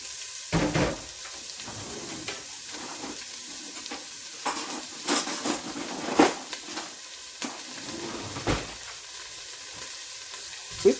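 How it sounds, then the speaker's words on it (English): White onion, scallion stalks and fresh thyme fry in oil in a pot, giving a soft continuous sizzle broken by several sharp scraping and clinking spoon strokes against the pot. "Just gonna drop it in my pot like that and allow it to fry up a little."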